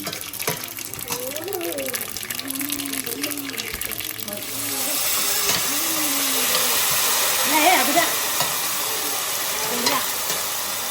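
Fennel seeds and sesame seeds crackle and sizzle in hot oil, a steady frying hiss that swells after a few seconds and holds, with faint clinks and a voice speaking over the first half.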